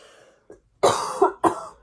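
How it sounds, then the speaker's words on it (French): A person coughs in a short, close burst of about three harsh coughs, the first longest and the last two quick and clipped, after a faint throat sound. "j'ai envie de tousser"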